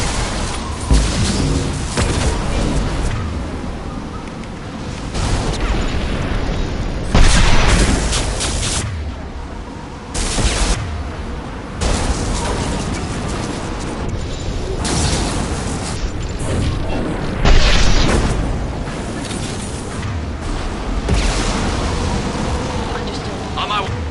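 Flashbang grenades and heavy weapons fire going off in a Mass Effect 2 firefight on Insanity difficulty, dense repeated booms and bursts layered with combat noise and character voice lines throughout.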